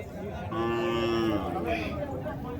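A calf at a native cattle market lets out a single clear, drawn-out moo at close range amid background market chatter.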